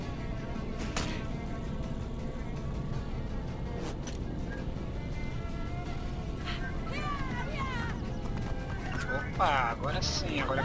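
Horse hooves galloping in Assassin's Creed Origins, a steady rhythmic clatter running under continuous game ambience, with a few faint whinny-like calls and someone speaking over it.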